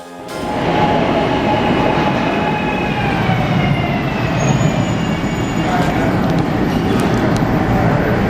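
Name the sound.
subway train passing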